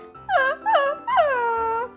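A cartoon dog whimpers sadly in three whiny, wavering cries. Two short yelps are followed by a longer drawn-out falling whine, clear and close.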